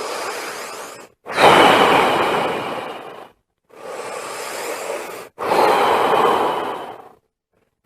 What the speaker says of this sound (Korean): 속에 있는 걸 다 내뿜고 뒤로 마시기 이런 숨을 쉬어야 되지 돼요